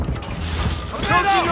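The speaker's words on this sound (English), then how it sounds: "Changing mags!" Weapon magazine being swapped in Call of Duty Modern Warfare 2 multiplayer, a short burst of metallic clicks and ratcheting mechanism sounds, close and fairly loud, with a brief voice callout near the end.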